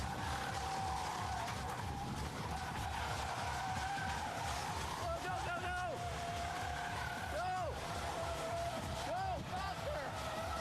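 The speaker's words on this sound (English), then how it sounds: "Listen to the tires." Pickup truck tires churning and skidding in a fast-moving mud flow, a steady loud rumble with squealing tire whines rising near the end, mixed with background voices.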